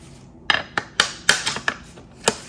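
Sharp metallic clicks and taps while a Dura-Ace hydraulic front disc brake is remounted on a Cervelo P-series bicycle, about eight separate knocks spaced irregularly, close and crisp with quiet gaps between.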